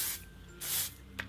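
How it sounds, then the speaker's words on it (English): Two short bursts of Kenra Platinum dupe hairspray from Sally Beauty hiss from an aerosol can onto hair, the first at the start and the second longer and louder in the middle, with a quick click or spritz near the end. "So I'm going to spray this into my hair"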